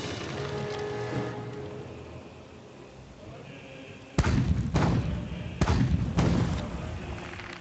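Cannon fire from the player's own ship in the naval combat video game Age of Pirates 2, heard as several loud, booming broadside blasts in quick pairs over a steady ambient background.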